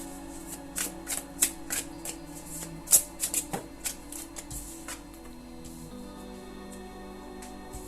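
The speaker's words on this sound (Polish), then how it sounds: "już sobie wykładamy karty" Tarot cards are shuffled and laid out by hand, with a quick run of crisp riffling snaps and flicks followed by softer slides and taps as cards land on a surface, close and clear with no voices.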